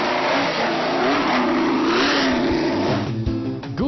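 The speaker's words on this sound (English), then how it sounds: "Driving off in Clark's black helmet, a 1965 Indy 500 winning car, the Lotus 38." Lotus 38, the 1965 Indy 500-winning racing car, pulling away at Goodwood, its engine roaring loudly and rising steadily in pitch as it accelerates, close by with no talk over it.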